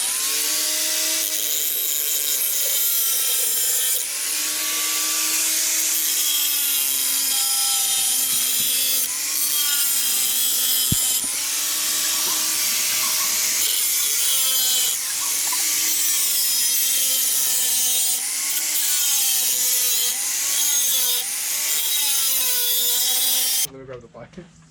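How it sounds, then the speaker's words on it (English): An angle grinder whines loud and steady at close range while cutting during a double-DIN radio install in a 1994–97 Honda Accord, its pitch wavering slightly under load for over twenty seconds before stopping. "So I'm gonna get the grinding."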